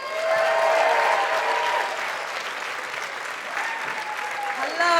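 An outdoor festival crowd at Wilderness Festival claps for a speaker coming onstage, dense applause peaking early then thinning, with some cheering and whistles near the end.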